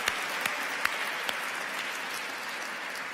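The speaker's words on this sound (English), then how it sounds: "So one more round of applause for Chris." An audience at a science gala gives a round of applause, a continuous soft patter of many hands with a few sharper claps standing out early on.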